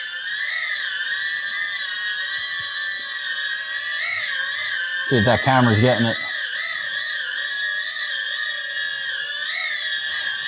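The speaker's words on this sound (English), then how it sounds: "Now, it's not a quiet drone. It's definitely loud." Caddx Protos FPV drone in flight, its motors giving a loud, steady high-pitched whine that wavers in pitch throughout, with a brief warbling surge midway and a short spoken remark.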